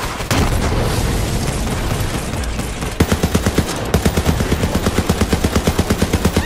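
Video game gunfire in Borderlands 3: loud, dense automatic shots at first, then a rapid, evenly spaced burst of sharp reports continuing steadily to the end.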